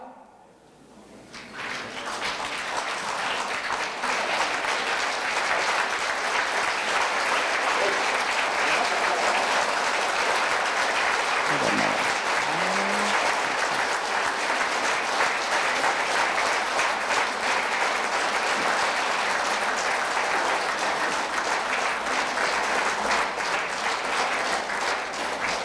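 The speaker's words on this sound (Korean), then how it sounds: "입장 시에는 모두 일어나서 힘찬 박수를 보내주시기 바랍니다." An audience at a high school alumni association New Year gathering and general meeting applauds steadily as the flag bearer enters. The clapping is dense and sustained, swelling in after a quiet start and staying loud to the end.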